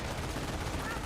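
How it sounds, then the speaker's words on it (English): Riflemen fire from a house in the video game Company of Heroes, a dense, continuous wash of gunfire and battle noise that stays loud throughout. "Riflemen being engaged from the house."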